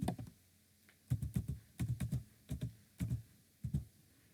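Fingers typing on a computer keyboard while writing a title into a Google document, quick bursts of close, soft key clicks separated by short pauses.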